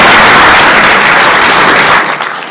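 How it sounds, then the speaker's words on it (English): A conference audience applauds three panelists at a research and decision-making session, dense loud clapping from many hands that holds steady, then cuts off sharply near the end. "Applause for all three of them."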